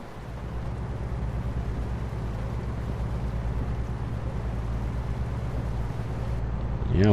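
Heavy truck engine straining uphill in rain in American Truck Simulator, a steady deep low droning rumble with constant harmonic hum that grows slightly louder toward the end.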